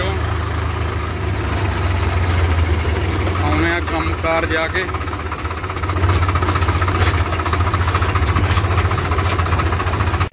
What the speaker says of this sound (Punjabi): ਚੱਲ ਰਿਹਾ ਟਰੈਕਟਰ ਆਪਣਾ 843